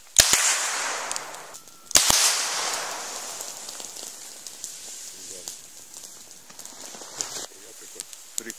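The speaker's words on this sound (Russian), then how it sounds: "салют!" Fireworks go off in the winter taiga with two sharp close bangs, each followed by a fading crackling hiss and scattered small pops.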